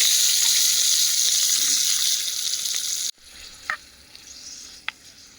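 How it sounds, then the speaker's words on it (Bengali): Mustard seeds and dried chillies splutter in hot oil as a tempering for tomato chutney, a loud dense sizzle lasting about three seconds before cutting to a quiet room with two faint clicks. "টমেটোমের চাটনিতে সর্ষে আর শুকনো লঙ্কা ফোড়ন দিলাম"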